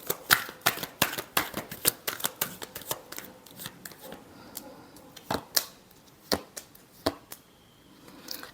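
Tarot cards being shuffled by hand during a Capricorn love reading: a quick run of sharp riffling flicks and slaps, dense at first and then more spaced out, close and crisp with no voices.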